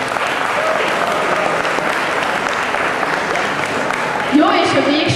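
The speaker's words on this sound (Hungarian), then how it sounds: "akkor még megtapsolhatjuk." An audience at a fanfiction and literary award ceremony applauds loudly and steadily for several seconds, with a brief swell of cheering near the end.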